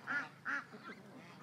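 Ducks quack outdoors, two clear quacks in quick succession followed by softer trailing calls, moderately distant and faint.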